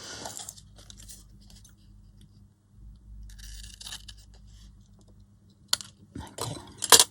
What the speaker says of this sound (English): I'm going to have to cut that top off.